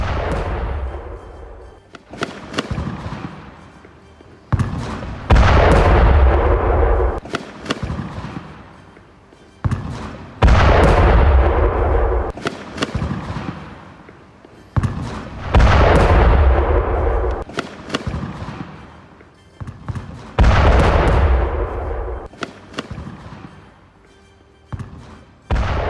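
Repeated heavy blasts, each a loud boom with a rumbling decay, come roughly every five seconds in news war footage of an explosion destroying an Israeli army vehicle in Gaza.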